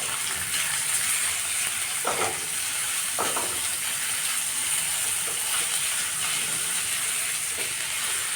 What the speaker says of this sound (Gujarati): અને લસણને અધકચરું ખાંડીને રાખ્યું છે એના પહેલાં એડ કરી દઈશું. પછી ઓનિયન અને કેપ્સિકમ નાખી દઈશું.